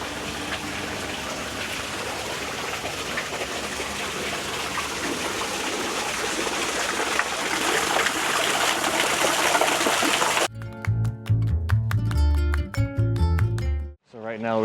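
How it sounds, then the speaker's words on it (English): Natural waterfall in Sunken Gardens pours steadily as a dense, continuous rushing wash for most of the stretch, then gives way to music in the final seconds. "this natural waterfall"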